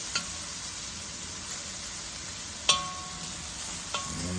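Beef fries in a hot pan for a green curry stir fry, a steady close sizzle with a few sharp clinks of the utensil against the pan as it is stirred.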